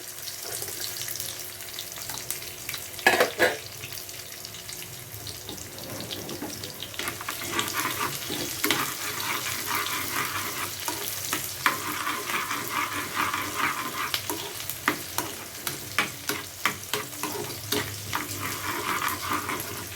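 Steady sizzling of onions, ginger and garlic frying in oil, a continuous crackle with occasional scraping taps of a utensil stirring the pan.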